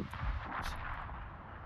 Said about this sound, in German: Der zweite Schuss trifft auch.